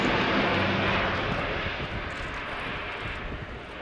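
An Airbus A400M Atlas military transport aircraft flying a display at the RIAT 2017 airshow: a steady, loud, broadband engine roar that fades slightly as it passes, with no talk.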